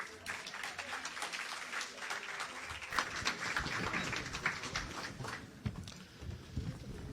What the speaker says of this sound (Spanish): Recibamos a nuestros expositores con un fuerte aplauso